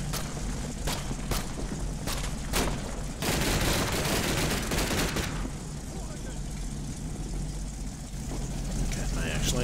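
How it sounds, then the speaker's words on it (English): Gunfire in the WWII strategy game Combat Mission Fortress Italy, heard as a dense burst of sharp cracks and rattling fusillade that swells midway through the clip over a steady low engine drone. "Part of the battle where you hope you don't hear any sounds of gunfire."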